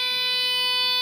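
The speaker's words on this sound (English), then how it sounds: "and silence the alarms" A conventional fire alarm panel and detector system sounds a loud, steady electronic alarm tone that holds unbroken throughout, with no one speaking over it.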